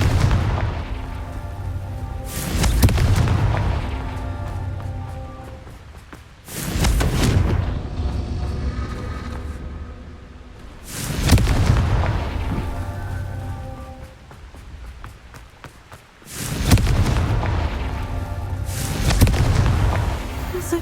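Confringo spell blasts in the video game Hogwarts Legacy: four loud, booming explosions spaced about four to five seconds apart, each with a sharp crack and rumbling tail fading into quieter ambience.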